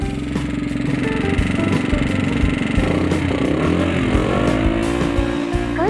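Close and loud, a Chinese Super Cub clone motorcycle engine revs high with a buzzing drone that climbs in pitch toward the end.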